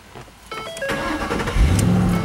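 A 2010 Ford Mustang GT with a 4.6-liter V8 cranks and fires up close by, the starter whir giving way to a rising exhaust growl that settles into a rumbling idle.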